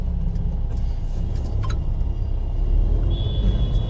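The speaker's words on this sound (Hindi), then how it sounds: "ओ भैया नई गाड़ी जा रही है, देखो भाई विक्टोरिस, जो मारुति वालों की नई आई है" A new Maruti Victoris car passes on a road, heard as a steady low engine rumble and tyre roar under continuous traffic noise, with a faint high whine near the end.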